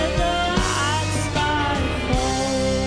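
Strings state the theme figure in context within a full orchestral James Bond medley, with rhythmic accents and bass hits recurring every half second or so, loud and continuous.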